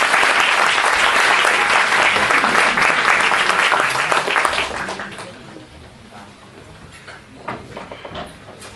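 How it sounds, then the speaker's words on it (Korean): A church congregation at a school Thanksgiving service breaks into loud, dense applause welcoming a pastor, sustained for several seconds before tapering off into scattered claps and room noise. "우리 나오실 때 큰 박수로 환영하겠습니다."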